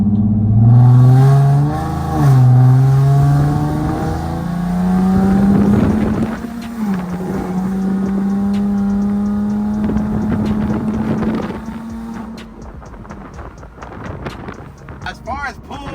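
Car exhaust fitted with test pipes after an exhaust leak was fixed, heard from inside while driving with the windows down: a loud, close engine drone that rises and falls with the throttle and then fades near the end.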